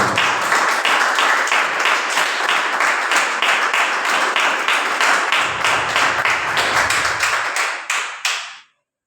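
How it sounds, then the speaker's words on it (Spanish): A church congregation gives the Lord a loud round of applause, dense sustained clapping that carries on for several seconds before tapering off and stopping abruptly. "Vamos a dar un fuerte aplauso"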